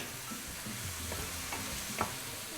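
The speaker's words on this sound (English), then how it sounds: "we're going going to continue to saute a few more minutes here" A bolognese base of vegetables sautés with a pinch of salt under constant stirring, giving a steady close sizzle with soft scraping strokes and a small clink near the end.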